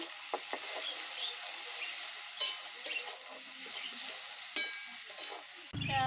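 Soft scraping and stirring of salt and turmeric in a pan over a quiet, steady sizzle, with a few brief clatters and a louder knock at the end.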